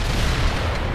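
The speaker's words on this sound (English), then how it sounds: "That's some explosion." A deep, rumbling blast in the war strategy game World in Conflict, a broad booming roar that fills the whole moment with no clear onset, loud and dense like heavy artillery impact.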